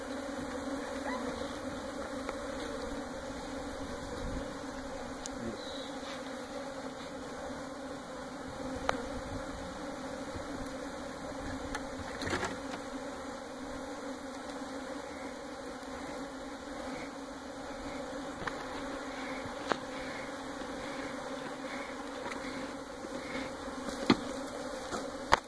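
Bee swarm buzzing steadily during a hive removal, a continuous dense hum at moderate distance with occasional brief louder passes of individual bees, and no talk.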